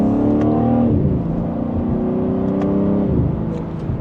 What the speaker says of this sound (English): And just a mild acceleration, and we're up to speed here.